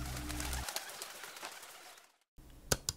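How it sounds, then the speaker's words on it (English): A pigeon coos close by in a couple of soft, breathy calls, with faint background noise and a short silence before a few clicks at the end. "Pigeon."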